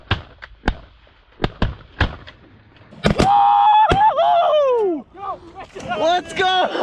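Shotgun shots ring out during a duck hunt in a thunderstorm: several sharp, loud blasts in quick succession, then excited shouting voices and calls take over.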